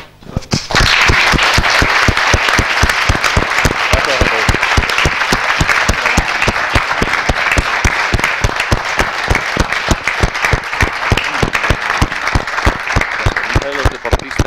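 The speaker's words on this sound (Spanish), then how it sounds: "le damos un fuerte aplauso" A big audience applauds a guest speaker, Carlos Barrabés, at an entrepreneurship event: loud, rhythmic clapping that settles into a fairly synchronized beat and carries on for the whole stretch without talk.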